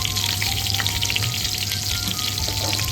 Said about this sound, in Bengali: কম পেঁয়াজ দিলে পেঁয়াজগুলো ইভেনলি ভাজা হবে।